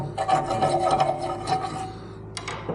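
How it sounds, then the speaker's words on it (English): Clay is rubbed off a plough part by hand, a close, steady scraping rasp that carries on for under three seconds with a brief fresh scrape near the end. "There's a little bit of clay there underneath, we'll just rub it off."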